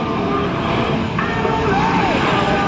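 An F/A-18C Hornet on approach during an airshow at NAS Oceana roars steadily and loudly from a distance as a broad wash of jet noise, with a faint pitch shift as the engine power changes.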